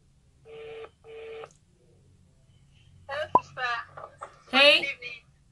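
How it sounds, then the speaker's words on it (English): A telephone rings on an outgoing call, two short ringback tones near the start, followed by a person speaking. "It's ringing."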